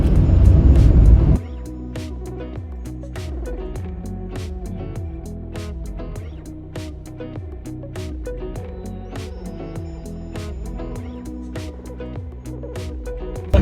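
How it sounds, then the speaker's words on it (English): A 2019 Perodua Axia G Xtra drives down Genting with a steady engine and road hum from inside the cabin, preceded by a short loud burst, with faint buzzing and ticking throughout. "I'm just gonna focus on driving and just try and enjoy this car a bit more"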